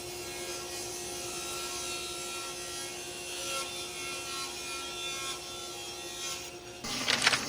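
A table saw rips wood strips for the bumpers of a cutting-board juice-groove router jig, running as a steady, loud motor hum with a sustained rubbing cut, then a brief rattle as the piece clears.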